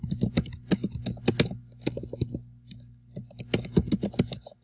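Rapid bursts of keystrokes on a computer keyboard, close and crisp, coming in uneven clusters with short pauses between words.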